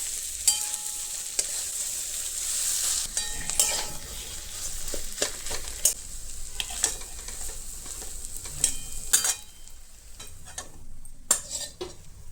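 Chillies frying in a pan, a bright crackling sizzle with repeated sharp clinks and scrapes of a utensil stirring against the pan, fading somewhat toward the end.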